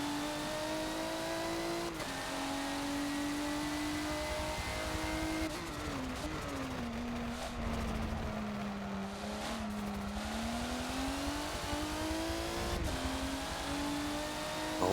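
A Porsche LMP1 race car engine in Forza on the Nürburgring GP circuit, a steady high-pitched drone rising and falling through gear changes and corners, loud and continuous with no talk.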